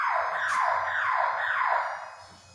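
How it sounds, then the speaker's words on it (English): A Schindler elevator's emergency alarm rings steadily, loud and close. Its harsh tone rises and falls in repeated sweeping cycles, then fades near the end. "And this is alarm."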